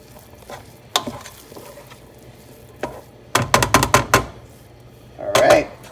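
Food frying in a pan gets stirred, with scattered scraping knocks and a cluster of quick utensil clatters over a faint sizzle, close and alone.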